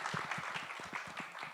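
Audience applause at a Bollywood film trailer launch event, a steady wash of clapping from a crowd that runs unbroken through the short moment.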